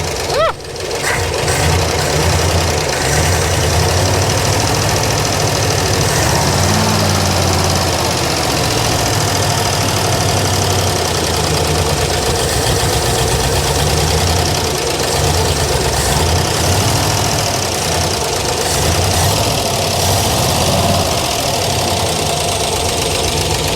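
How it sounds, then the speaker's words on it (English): Engine of a classic car idling roughly, a loud continuous rumble with uneven knocking pulses that sag and waver as it starts to stall, heard close up throughout. "Oh, it's starting to stall."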